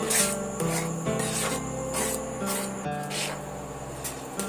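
Thick rice and palm halwa stirred in a pan over low to medium heat, giving a continuous scraping, rubbing rasp with repeated strokes, close and fairly loud, with no talk.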